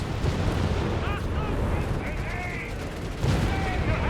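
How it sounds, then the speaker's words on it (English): Hellcat tank destroyers firing amid a busy Company of Heroes 3 battle, dense rumbling gunfire and cannon blasts layered with a fresh burst of shots near the end, under a commentator's talk. "the Hellcats just firing it again"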